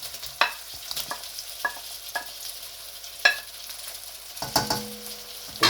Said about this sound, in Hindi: अब मैं टमाटर भी साथ ही ऐड कर दूंगा